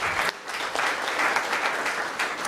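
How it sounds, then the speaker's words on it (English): Brief, fairly loud applause from a conference audience at an opening session, a dense spread of clapping that dips for a moment early on and then fills back in steadily. "Let's give them another round of applause."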